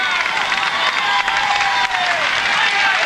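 Roadside crowd at the Tour de France applauding and cheering passing riders during a 2003 stage climb to the Col de Portes, a steady, dense wash of clapping and crowd noise throughout.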